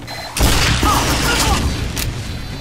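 A Team Fortress 2 sentry turret fires rapid bursts of gunfire, a dense rattling clatter within busy game-combat noise, with a voice briefly audible.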